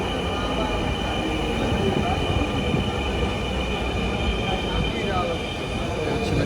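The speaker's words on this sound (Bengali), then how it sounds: "এই যে আমাদের ট্রেন চলে আসছে। লাইন টাচ লাগে ট্রেন চলতেছে।" A metro rail train pulls into an underground station, a steady loud rumble of wheels and carriages filling the platform with a faint squeal near the end, continuous throughout with no clear speech.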